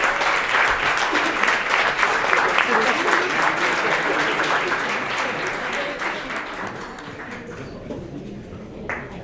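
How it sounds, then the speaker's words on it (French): Audience at a centenary recognition evening for a Quebec natural history society applauding a secretary of state, a full round of clapping that gradually thins and fades toward the end. "une bonne main d'applaudissement pour M. Marcel Comont, secrétaire d'État."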